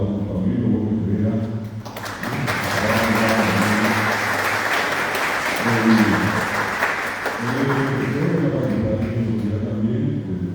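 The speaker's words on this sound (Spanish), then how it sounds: "quiero pedir un aplauso para los escritores que nos honran con su presencia" An audience applauds visiting writers at a poetry gathering and tribute, a full, sustained burst of clapping lasting several seconds between stretches of a speaker talking before and after.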